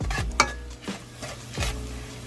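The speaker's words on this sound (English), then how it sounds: "Okay, stir it a little bit." Garlic and sugar are stirred in a pan while cooking, with a soft sizzle underneath and a few distinct utensil scrapes and clinks against the pan, close and moderately quiet.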